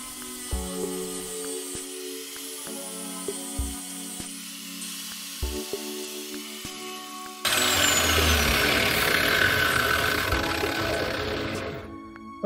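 A power grinder grinding off screw heads on a 1984 Grady White boat whines in short bursts with brief pauses, then runs continuously and louder in a harsh, gritty grinding for several seconds.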